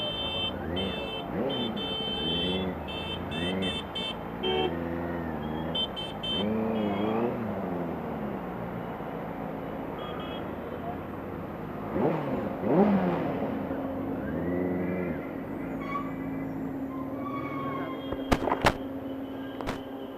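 Engine of a 2018 Benelli 600i ABS motorcycle revving, with repeated rising and falling pulls heard from nearby. Wind and road noise run throughout, and sharp clicks come near the end.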